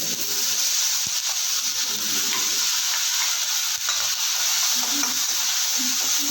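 Spices for rasam sizzle and crackle steadily in hot oil, a continuous bright frying hiss with occasional stirring scrapes.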